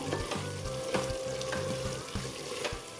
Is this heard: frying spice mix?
yes